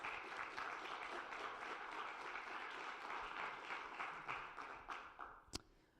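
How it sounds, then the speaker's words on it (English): Applause from the audience at a health care event fills the room with dense, sustained clapping that continues for several seconds and then thins toward the end, closing with one sharp final clap. "can we quick give them a little round of applause?"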